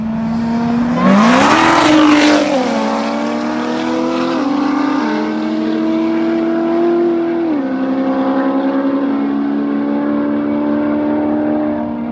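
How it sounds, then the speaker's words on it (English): A Chevrolet Corvette Z06 and a Nissan GT-R roll race at a street racing event, one engine roaring loud and close as it accelerates hard, its pitch climbing and dropping through several gear shifts in a long, sustained run. "they're gonna do a roll race"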